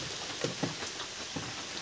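Heavy rain pours in a steady hiss, with a few faint drip impacts tapping through the even wash of falling water.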